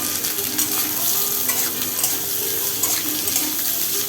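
Potatoes fry in hot mustard oil with nigella seeds and slit green chillies, giving a bright, continuous sizzle with soft scraping as they are gently stirred, close up and without speech.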